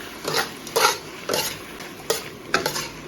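Pork liver with garlic being stir-fried in a wok, rhythmic spatula scrapes and clanks against the metal at uneven intervals over a light sizzle, close and fairly clear with no speech.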